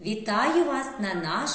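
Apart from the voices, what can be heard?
No everyday noise stands out behind the speech.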